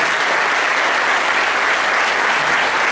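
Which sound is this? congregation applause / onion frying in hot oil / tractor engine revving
congregation applause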